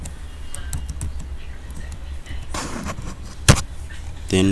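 A username being typed on a computer keyboard for an app login form, with a short run of light key taps over a steady background hum and a louder knock near the end.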